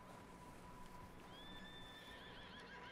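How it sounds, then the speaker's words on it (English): Horses in the Red Dead Redemption 2 video game give a faint neigh over a steady, dense background of game ambience, with no talking. "Horses, at least."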